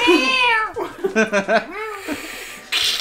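A person imitates a cat's meow in a drawn-out, wavering voice, followed by a few short laughing syllables and a brief breathy noise.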